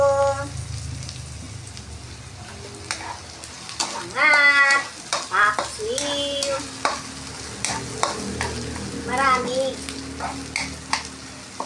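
Ginger, garlic and onion sauté in a pan for fish tinola, a continuous frying sizzle with occasional stirring, under bursts of speech and a voice.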